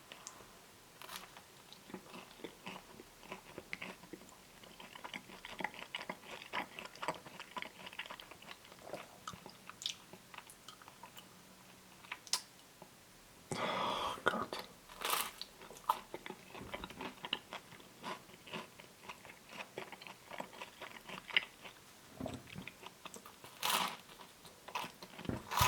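Someone bites into and chews a Wagner Big City pizza, Texas variety, making soft, close crunching and mastication sounds, faint and intermittent with a few sharper bites along the way.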